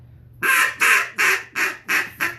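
A handheld duck call blown by a caller to imitate a duck, giving six loud, evenly spaced nasal quacks in a steady cadence, close up and alone.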